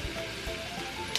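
Bread browning in a pan gives a soft, steady sizzle with a faint crackle, heard close and alone, with one brief sharp tick near the end.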